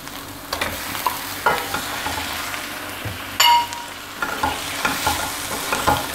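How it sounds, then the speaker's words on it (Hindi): Chicken pieces sizzle in a spiced masala over medium heat for Lahori murgh channay, with a steady fry under repeated scraping strokes of a spoon and an occasional metallic clink against the pan. "चिकन को मीडियम हीट पर 2 मिनट के लिए इस मसाले में भूनेंगे"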